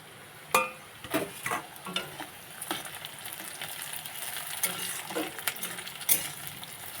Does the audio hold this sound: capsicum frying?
yes